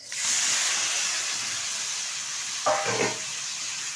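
Hilsa fish pieces with turmeric and salt sizzle steadily in hot oil, a loud continuous hiss with a brief stirring clatter near the end.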